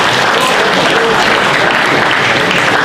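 Audience applause at a fortieth-anniversary celebration of a gusle players' society in Pale, a dense, steady wash of clapping hands that stays loud and continuous throughout without a break.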